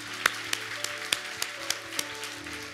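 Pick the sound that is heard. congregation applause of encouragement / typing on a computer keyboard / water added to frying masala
congregation applause of encouragement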